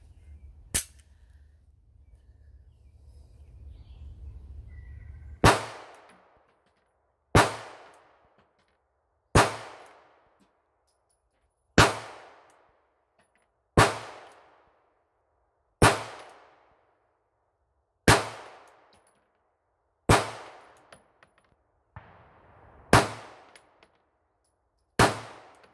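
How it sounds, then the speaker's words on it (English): A Sig P365 pistol fires about eleven sharp, loud single shots at a target, evenly spaced roughly two seconds apart, each with a brief ringing decay, after a quiet low hum at the start. "Just shooting different spots on the target, see what kind of little groups we get in there."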